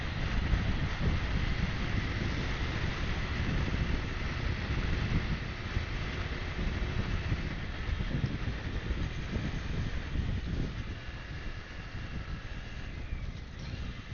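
Strong headwind roars and buffets the microphone while riding a V-MAX Orcal Astor 125cc scooter, a continuous loud rumble with no talking.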